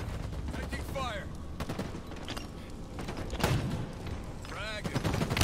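Rapid gunfire in Halo Infinite during an online multiplayer match, dense bursts of shots layered with explosions and game effects, continuous and loud, with voice callouts mixed in.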